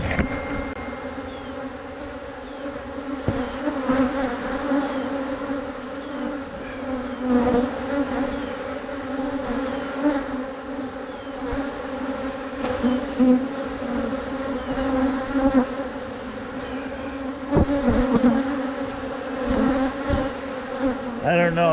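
Bees swarming around an opened hive as it is worked, a dense, steady droning buzz close by with individual insects passing near, with light handling noises and no clear talk.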